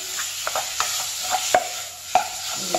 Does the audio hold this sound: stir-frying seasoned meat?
yes